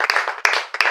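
A church congregation applauding during a revival prayer service, close rapid claps in a few sharp bursts over continuous crowd clapping.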